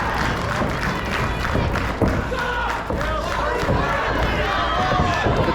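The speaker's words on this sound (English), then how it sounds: "The crowd here at the Lockhart gym firmly behind Braddock, was trying to will him into Dale Springs' corner" A wrestling crowd in the Lockhart gym roars and cheers steadily at a live match, with thumps and claps mixed into the dense noise, and a commentator's voice faintly underneath.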